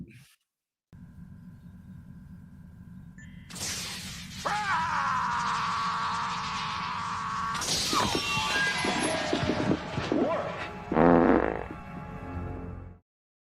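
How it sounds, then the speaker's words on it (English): A fart sound effect punctuates a TV bumper for Star Trek: The Next Generation, arriving as a loud, brief burst near the end over a busy bed of music and effects. "The timing on the fart was perfect"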